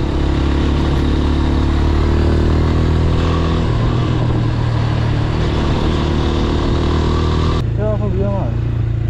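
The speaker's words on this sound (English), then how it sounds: "I'm riding a sport bike." A sport bike motorcycle is ridden with a continuous loud engine drone and wind rush, steady throughout and close, with traffic clatter around it and a voice speaking over it.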